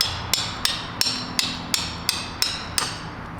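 Ratcheting socket wrench loosening a bolt on a BMW N54 engine during teardown, a steady series of about nine sharp metallic clicks at an even rhythm, close and clear with no talking.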